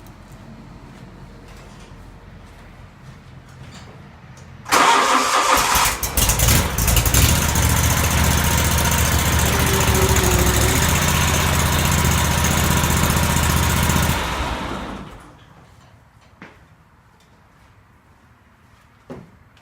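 A lawn mower engine with a Vanguard engine starts abruptly and runs loud and steady for about ten seconds as the mower drives up onto blocks, then cuts off, leaving quiet with a few faint clicks.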